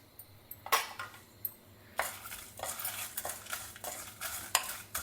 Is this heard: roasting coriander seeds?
yes